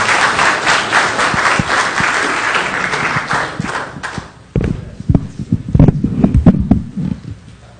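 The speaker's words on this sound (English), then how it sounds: "Give them a big round of applause" Applause from the audience at a city council regular meeting, a dense burst of clapping that is loud at first, then thins into scattered, uneven claps before fading.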